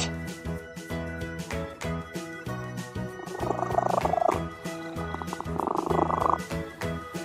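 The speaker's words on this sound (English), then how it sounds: "Cat." A children's toy cat plays a recorded purring and meowing sound effect over a repeating electronic jingle, with bursts of rough purr standing out loudly in the middle and near the end.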